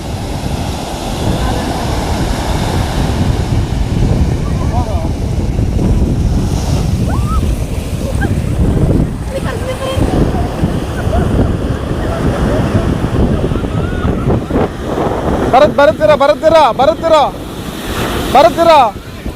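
Ocean waves break and surge on a village beach with heavy wind buffeting the microphone, a continuous loud roar, while voices call out near the end.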